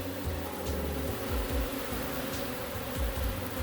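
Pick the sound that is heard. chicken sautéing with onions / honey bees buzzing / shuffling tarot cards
honey bees buzzing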